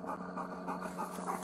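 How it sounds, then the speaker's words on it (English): A police K-9 dog of a county sheriff's unit pants quickly and steadily during a garage burglary arrest, soft and close with a faint hum beneath. "This dog will bite you."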